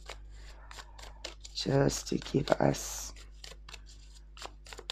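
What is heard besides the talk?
tarot cards being shuffled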